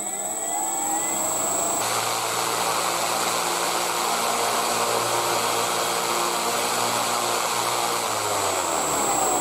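Homemade wooden propeller spun by an electric motor at about 1 kilo of thrust, a loud steady whirring drone that holds constant throughout with no talking.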